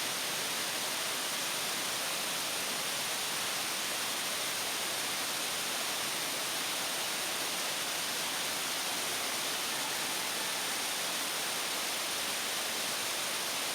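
A waterfall inside a limestone show cave, a dense, unbroken roar of falling water that stays constant and fairly distant in tone throughout, with no voices.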